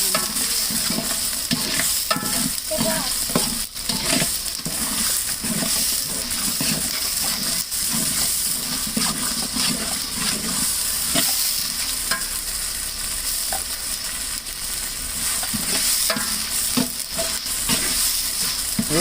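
Coriander and mint leaves fry in hot oil with ginger and garlic for a chicken biryani, giving a steady, loud sizzle with stirring scrapes and clatters throughout.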